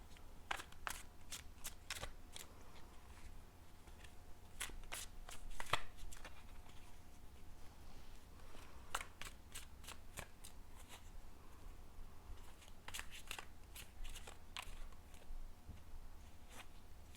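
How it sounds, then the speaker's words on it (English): A deck of tarot cards is shuffled by hand in repeated bursts of quick riffling flutters, close but soft, with short pauses between rounds against a quiet room. "I do like to give them another shuffle on camera while I connect to your energy"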